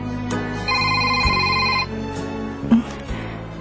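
A mobile phone rings loudly indoors. Its bright electronic ringtone plays in a sustained burst, then cuts off and is followed by a few brief knocks and shuffles.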